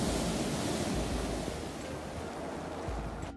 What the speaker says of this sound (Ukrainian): На морі Вітер несе хвилі на берег.